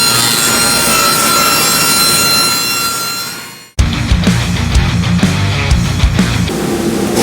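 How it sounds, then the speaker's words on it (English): A saw rips a 1x4 wooden board into strips, loud continuous cutting for several seconds that winds down, followed by a burst of rough scraping and knocking of wood. "So we're going to start out ripping our 1x4 down to 1 3/4 strip and 1 3/8 strip."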